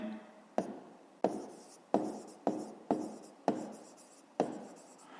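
A pen writes on paper while a fifth-grade maths exercise is worked through, giving a series of about eight distinct scratchy strokes at a steady pace, close and quiet.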